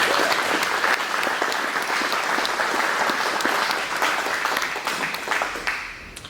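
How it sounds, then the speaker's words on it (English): Sustained audience applause at an awards ceremony honoring Julia Brickman, dense clapping from a full room that holds steady for about six seconds, then thins and fades at the end. "Let's have a round of applause for Julia Brickman."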